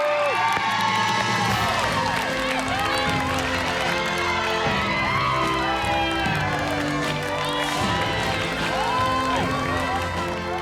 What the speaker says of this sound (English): it felt amazing having all those people there cheering me on and, you know, wanting to see me finish